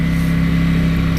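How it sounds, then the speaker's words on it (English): A Ducati Panigale V4S motorcycle engine idles steadily up close, with a continuous low hum and a slightly rattly ticking tick-over, and no voices. "The engine is so nice to listen to. It's a little bit rattly as you would expect."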